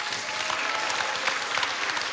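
A stand-up comedy audience claps together in a dense, even burst of applause that holds steady and close for a couple of seconds.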